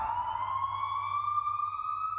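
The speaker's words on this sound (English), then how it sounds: "For most drivers, we hear a siren, we react." A siren wails in a steady, slowly rising tone, loud and clear with no other sounds around it.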